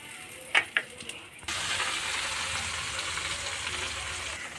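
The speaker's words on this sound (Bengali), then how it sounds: "কড়াইয়ে বাটার দিয়ে দিয়েছি। আর এখানে ম্যারিনেট করা মাংস আছে, মাংসটা আবার ভেজে নিই।" Marinated chicken pieces drop into hot butter in a wok and break into a loud, steady sizzle, a few sharp clatters first and then continuous dense frying hiss.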